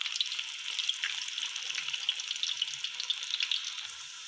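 Potato chips coated in besan batter fry in oil with a soft, thin, steady sizzle and scattered tiny pops, fairly quiet and with no voices.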